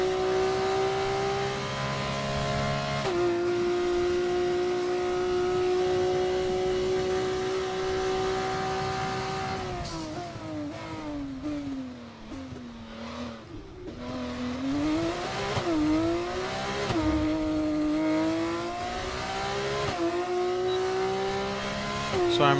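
F1 24 race car engine screaming at high revs through gear changes, a loud sustained whine dipping as the car slows for a corner, then climbing again with quick upshifts.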